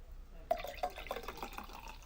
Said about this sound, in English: I just want to take a quick break so that I can pour myself a drink